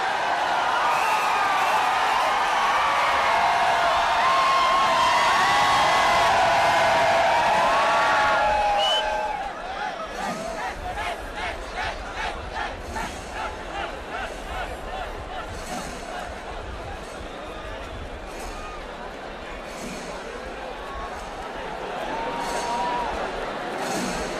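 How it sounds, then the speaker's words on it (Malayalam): Large festival crowd at Thrissur Pooram during the Thekkottirakkam procession, a loud dense roar of voices and cheering that swells at first, then drops to a steadier, rhythmic chanting babble. "ആളുകളുടെ ആരവത്തിന് ആർപ്പുവിളികൾക്ക് ആവേശം കൂടുകയാണല്ലേ?"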